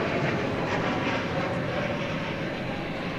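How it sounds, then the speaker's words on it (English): An American Airlines Boeing 737-800 arriving at night at DFW Airport gives a steady, broad jet roar that stays constant throughout. "American Flight 2603, 737-800 coming in from Sin City, Las Vegas."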